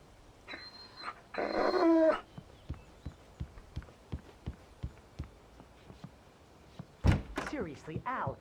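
Max the dog in the video game Alan Wake, heard amid game audio: a door sliding and thumping, a run of steady footstep-like knocks, then a sudden burst of dog whimpering and yelping near the end.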